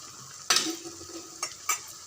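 Masala vada frying in hot oil gives a quiet bubbling sizzle, broken by a sharp spatula clink near the start and two lighter scrapes toward the end.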